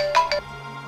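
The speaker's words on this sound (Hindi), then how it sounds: "अरे पूनम की सास का फोन" A phone ringtone sounds: two quick electronic tones, loud and close, followed by a faint steady hum.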